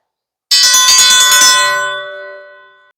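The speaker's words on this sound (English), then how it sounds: "go out and ring the dinner bell, let the gang know that it's time to eat" A dinner bell is struck outdoors and clangs rapidly several times in a loud burst. Its bright metallic tone then rings on alone and fades away slowly.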